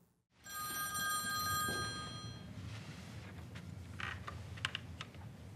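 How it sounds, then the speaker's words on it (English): Old-style telephone bell ringing indoors, a bright metallic trill lasting about two seconds, followed by quieter room noise and faint rustling. "Then the phone rings."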